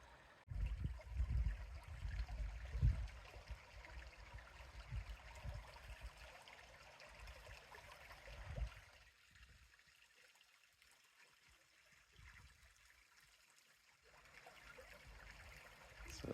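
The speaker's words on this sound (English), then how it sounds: "It's a small little creek." A small creek holding many small trout flows with a soft, steady trickle and gurgle that is faint and somewhat distant, easing to a quieter murmur partway through.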